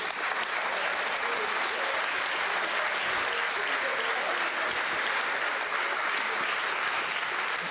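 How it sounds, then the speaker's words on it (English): Sustained applause from a concert audience fills the hall, a dense, steady clapping that stays loud and even throughout with no pauses. "On peut les applaudir encore une fois."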